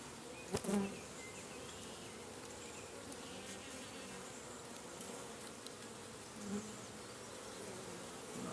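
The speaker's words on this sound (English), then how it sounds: "I can get the bees out of the way here, get a little more room here." Honeybees in an open hive of new queens give a steady, continuous buzz close by, with a couple of brief soft knocks as frames are worked; no one speaks.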